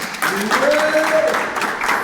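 A short burst of clapping from a small audience, mixed with voices talking over it.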